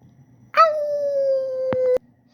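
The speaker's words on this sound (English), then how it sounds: "Is that my husky howling?" A husky howls once, a single long sustained wail that holds a steady pitch for over a second before cutting off, close and clear with no talk.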